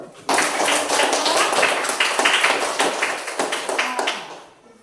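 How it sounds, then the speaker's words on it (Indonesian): A sixth-grade class claps together in a classroom, a dense burst of many hands that starts abruptly, holds for about four seconds with a few louder claps, then tapers off. "Tepuk tangan dulu."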